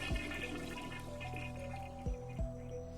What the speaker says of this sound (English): That's the toilet!